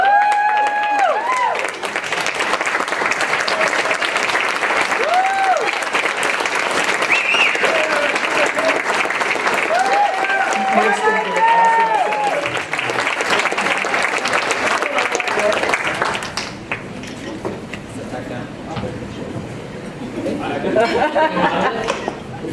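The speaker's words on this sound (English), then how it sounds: "I'd like to have everybody stand with me and applaud Mike" A standing crowd at a technology executive award dinner breaks into loud, sustained applause with chatter and some cheering mixed in, then the clapping drops away to murmuring voices near the end.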